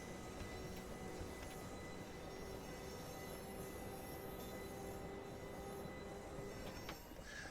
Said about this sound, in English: So that train is coming in, I believe, from the the Rochester area.